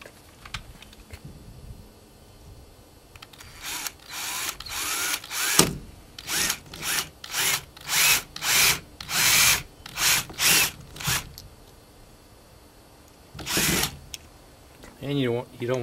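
A power drill drives screws into polycarbonate greenhouse panels in a rapid series of short whirring bursts, close and loud, with a brief voice at the end.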